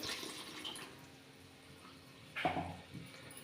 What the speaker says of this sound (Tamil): மிக்சி ஜாரை கழுவி கொஞ்சமாக வந்து தண்ணி சேர்த்துக்கிறேன்